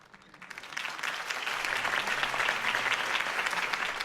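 A crowd in the video game Batman: The Telltale Series breaks into applause that swells within a second and holds as a dense, steady clapping.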